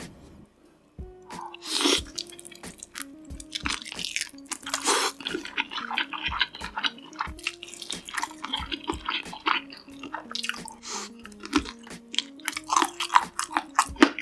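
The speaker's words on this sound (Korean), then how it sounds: "치킨은 다리살부터 뜯어서 먹을게요." Close, wet chewing and biting of fried chicken leg meat with sauce, soft crunches and smacking sounds repeating steadily, with a faint tonal background hum throughout.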